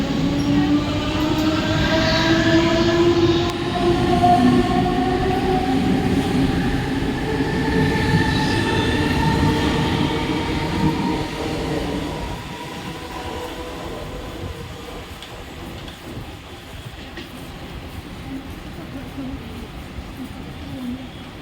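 A Mumbai local train arriving at a platform at CSMT station gives a loud, sustained rumble with squealing brake tones that gradually fade as it slows, while a station announcement plays over it.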